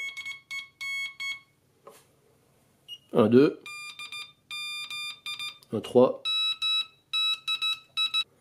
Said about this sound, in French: je change la tonalité de mon signal Morse